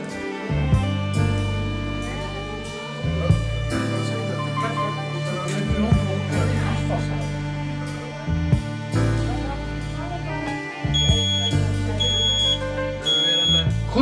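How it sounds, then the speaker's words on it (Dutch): A smoke detector sounds with loud, repeating electronic beeps in a steady pattern, continuous over a background of other sounds. "En tevens gaan wij rookmelders ophangen in die woningen."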